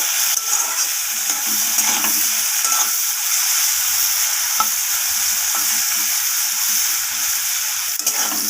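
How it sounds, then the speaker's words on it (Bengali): Sliced bitter gourd fries with salt and turmeric powder in a pan, a loud, continuous close-up sizzle with occasional stirring scrapes and no talk. "তো দেখুন এখানে উচ্ছেটা দেখে বুঝতেই পারছেন কতটা ভাজা হয়েছে"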